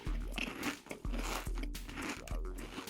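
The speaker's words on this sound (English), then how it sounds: "crunching on something at her desk" Someone at a classroom desk bites and crunches on a crayon, a series of sharp, close crunches roughly every half second over a steady background.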